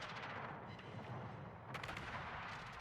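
Naval guns fire in World of Warships, a dense rolling barrage of booming shell blasts that stays loud and continuous with a sharper burst near the end.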